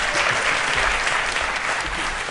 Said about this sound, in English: yes, an applause.